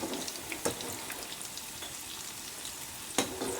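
Medu vada with sweet corn and green peas fry in hot oil, giving a steady soft sizzle broken by a couple of sharp pops. No one speaks.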